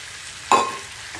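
Eggs poured into a hot pan of fried bottle gourd give a sudden, brief sizzle that flares and quickly fades, close and alone with no talk.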